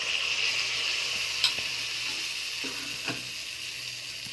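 A test drop of mango batter frying in hot oil for Bengali-style mango bara, a steady close sizzle throughout with a couple of faint clicks.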